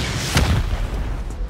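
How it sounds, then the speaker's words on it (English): Rocket explosions breaching base walls in a survival raiding game, a deep booming blast that rumbles on and fades, loud and near, with no talk. "Let's open up two walls, four rockets here."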